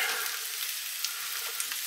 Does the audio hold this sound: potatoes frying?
yes